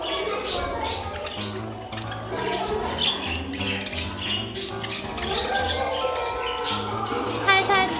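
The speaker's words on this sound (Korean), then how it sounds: "새들이 다 몰려들었네." Birds flock together at an animal cafe, giving a dense stream of squawks and chirps close by while people talk over them throughout.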